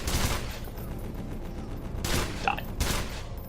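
Turret gunfire in the video game EYE Divine Cybermancy: a dense, rumbling fusillade of rapid shots that runs throughout, swelling into louder bursts toward the end, with no talking.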